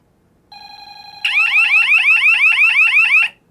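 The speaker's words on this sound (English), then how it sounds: "Command 9, labeled police, is just a panic alarm." A Radionics D7412G security panel sounds its panic alarm: a steady high electronic tone starts, then switches to a loud, rapid rising warble that repeats about ten times before cutting off.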